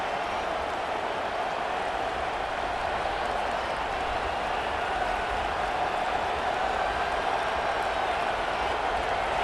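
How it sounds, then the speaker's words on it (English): Stadium crowd in EA Sports College Football at Kinnick, a dense, continuous roar that stays loud and unbroken for the whole stretch, with no distinct voices standing out. "with this place rocking, the crowd forces a false start"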